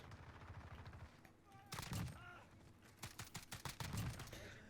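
FAL rifle fire in Call of Duty: Modern Warfare multiplayer, heard as a few sharp single shots and short bursts in the second half, fairly loud over a busy game background with a low hum throughout.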